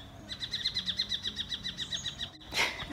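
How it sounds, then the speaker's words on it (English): Birds calling in a gully outdoors, a fast series of about a dozen repeated high chirps in a steady rhythm, fairly close and clear, followed by a brief louder burst at the end. "These birds really have something to say, don't they?"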